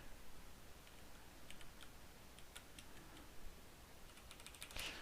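Computer keyboard keys tapped quietly in short irregular clusters while editing a Doom level, soft clicky keystrokes over a steady background hiss, with no talk.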